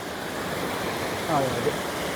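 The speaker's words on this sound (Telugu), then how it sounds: "సో ఆల్రెడీ వాటర్ ఫాల్ మాకు దగ్గరలో కనపడతా ఉంది" A broad, steady rush of falling water fills the background, constant and fairly loud, with a brief voice murmuring faintly beneath it.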